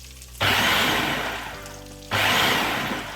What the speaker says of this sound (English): I'm just going to give them a quick blitz in my food blender.